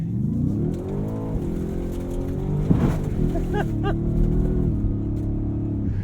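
A Ford F-150 Raptor R off-road truck with a 700-horsepower engine rumbles and revs steadily, its engine tone rising and falling, with a brief rushing burst midway as it drives through a puddle.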